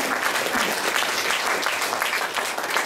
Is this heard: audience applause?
yes